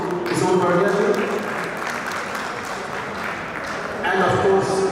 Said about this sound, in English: So very, very big round of applause to Kishore Bhadia.